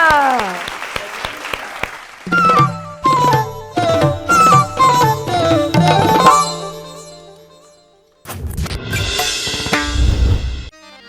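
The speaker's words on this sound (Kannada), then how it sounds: "ಜೋರಾದ ಚಪ್ಪಾಳೆಯೊಂದಿಗೆ ವೇದಿಕೆ ಮೇಲೆ ಬರ್ಮಾಡ್ಕೊಳ್ಳೋಣ." A stage crowd claps loudly to welcome the performer Chota Menasinakai Shivu at the Gaana Sinchana singing show. The applause comes in swelling waves mixed with tonal music, breaks off, then returns strongly near the end.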